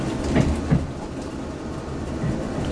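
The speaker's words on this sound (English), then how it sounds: "See the front of the train there." A train rolls past on a curving railway near a level crossing, its rumble and a couple of clacking wheel thumps close by over steady background noise.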